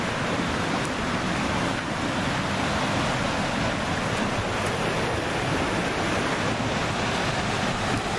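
River water rushing hard at a favorite swimming spot, a dense, continuous broadband roar that stays loud and steady throughout with no talk.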